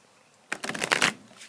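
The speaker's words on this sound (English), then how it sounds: "And we're going to do some shuffling." A quick riffle of tarot cards being shuffled outdoors, a brief burst of papery flutter close up, then quiet.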